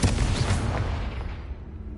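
A Confringo spell blast in Hogwarts Legacy lands with a loud, close fiery boom that fades away quickly, with no voices over it.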